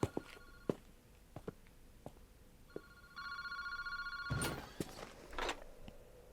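Telephone ringing at a park phone booth in the Paranormasight video game, with a steady electronic ring sounding for a few seconds amid faint footsteps and scattered clicks.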